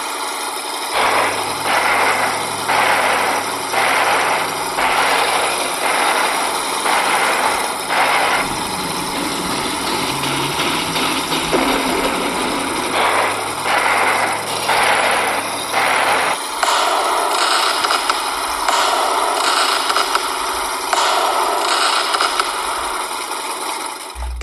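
Fairey Swordfish biplane torpedo bombers droning steadily, their piston engines giving a loud, continuous, slightly rattling roar that pulses and shifts in tone, with no voices.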